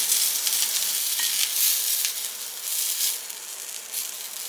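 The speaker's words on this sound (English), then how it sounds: "I'm just going to let these continue to simmer while I finish up my sausage and I fry me an egg." Sausage and an egg frying in oil in a skillet give a loud, continuous close sizzle and crackle that holds steady throughout with small surges.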